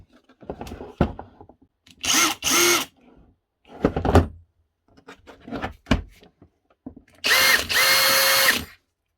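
An Erbauer brushless cordless drill whirs in several short bursts, with clicks and handling noises between them. The last run is the longest, close by and loud.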